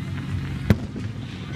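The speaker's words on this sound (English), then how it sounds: "we are watching awesome fireworks" A single firework bursts with a sharp, loud bang amid a steady low rumble of crowd and background noise at a fireworks display.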